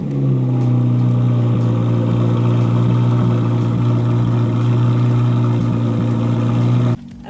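A Chevrolet Corvette ZR1 driving on a street on a sunny day, its engine a loud, steady, close droning roar that cuts off sharply near the end.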